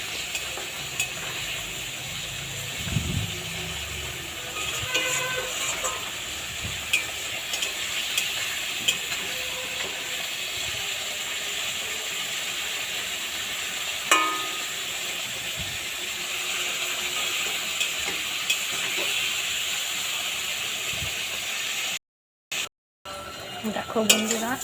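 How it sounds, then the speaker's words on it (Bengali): Potatoes for a vegetarian aloo dum are fried and stirred in oil, giving a steady close sizzle broken by occasional scraping stirs, with a couple of brief dropouts near the end. "এখন আলুটাকে পুরো কষিয়ে নেব"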